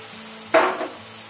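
Chopped onion hits a hot pan with one short, sharp sizzle that quickly settles into a low, steady hiss.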